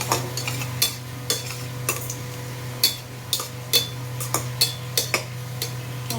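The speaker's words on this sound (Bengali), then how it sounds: "এবার এটা ভালো করে কষাবো।" Onion and garlic paste being sautéed in a pan, with a spatula scraping and tapping in an irregular rhythm over a soft sizzle, close and fairly quiet.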